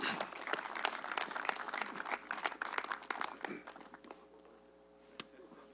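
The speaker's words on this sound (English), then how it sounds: "Give him a round of applause." A crowd at a sports park groundbreaking ceremony claps for a player announced for third base, a burst of dense, close applause that thins out after about four seconds and ends in a few scattered claps.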